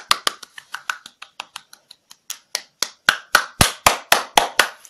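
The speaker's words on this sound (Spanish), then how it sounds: "ya empiezo a aplaudir" A baby claps her hands, a run of distinct close slaps in uneven rhythm, soft and sparse at first and then louder and quicker toward the end, with no talk over them.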